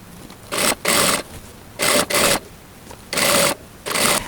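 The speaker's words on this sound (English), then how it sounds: "I'm going to sew along the long edge until the neckline" A sewing machine stitches along the long edge of a linen summer dress toward the neckline, running in six short, close bursts, some in quick pairs, with brief pauses between them and no talking.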